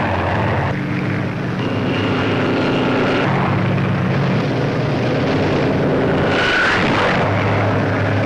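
Massed WWII Allied invasion aircraft over Normandy in 1944 give a continuous loud propeller-engine drone, steady and heavy throughout with a brief higher whine near the end, with no voices.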